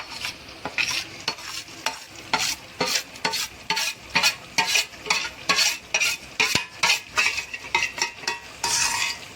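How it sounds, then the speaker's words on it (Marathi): Masala spices and red chilli fry in hot oil for a Marathi mutton curry, a spoon scraping the pan in steady rhythmic strokes over a continuous close sizzle. "आता आपण त्याच्यात मसाला टाकूया."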